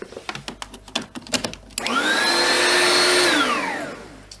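An Oreck XL Classic upright vacuum cleaner, awaiting refurbishment, starts up after a series of knocks and thuds, rising into a loud, steady whine that holds for a couple of seconds and then begins to wind down.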